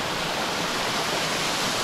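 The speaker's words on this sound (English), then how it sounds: "Hey, small little cute waterfall." A small jungle waterfall in Palawan roars with a continuous, even rush of falling water, close and loud, with nothing else audible.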